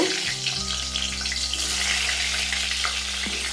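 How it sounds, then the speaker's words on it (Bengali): Salted, turmeric-coated pointed gourd pieces fry in hot mustard oil, giving a steady, close, continuous sizzle with a low hum underneath and no talk. "এবার পটলগুলো আমি তেলে দিয়ে দেব"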